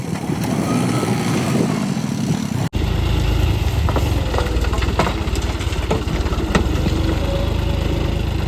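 A farm tractor's engine runs loud and close, a steady low rumble that cuts in abruptly after a quieter stretch and then chugs on with scattered clanks and rattles.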